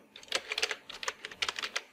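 Rapid bursts of clicky keystrokes on a computer keyboard as admin login details are entered, close and clear in short irregular runs with no voices.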